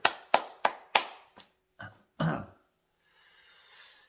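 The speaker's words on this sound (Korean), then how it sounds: "주님께 박수." At an early-morning church prayer service, a small congregation gives about seven sharp, separate claps that slow and thin out, each ringing briefly in a reverberant room, before a soft hiss takes over.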